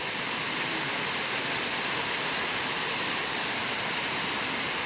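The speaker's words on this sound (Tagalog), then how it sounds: "Hanggang ngayon, umuulan pa rin." Heavy rain pours down during a flood at a home, a dense, unbroken hiss of downpour that stays loud and even throughout with no gaps.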